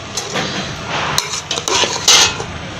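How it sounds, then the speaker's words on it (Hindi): Spiced biryani rice stirred in a metal pot, with continuous scraping and clinking of a spoon against the pot, loud and close, with no talk. "इसको एहतियात से मिक्स करते हैं ताकि सब में चावल में मसाला अच्छी तरह मिक्स हो जाए"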